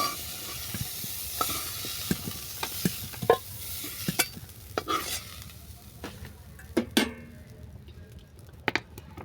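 Broccoli florets frying in a pan while being stirred: repeated spoon scrapes and clacks over a soft, steady sizzle, close and moderately quiet, with no talking.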